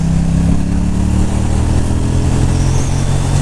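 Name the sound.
KTM 790 Duke motorcycle accelerating in 5th gear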